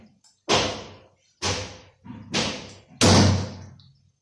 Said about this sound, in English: And I'll shoot it again